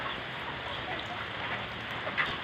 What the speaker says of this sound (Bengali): টিনের চালের বৃষ্টি কিন্তু শুনতে খুব ভালো লাগে।